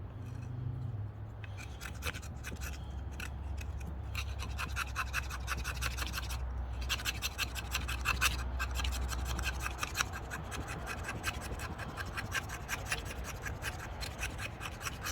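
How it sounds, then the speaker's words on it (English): Fatwood being scraped into fine maya dust for a ferro rod fire, heard as close, dry scratching strokes in rapid rhythmic bursts that go on throughout, fairly quiet with a low rumble underneath. "I'm going to get some more Maya dust because I need a lot"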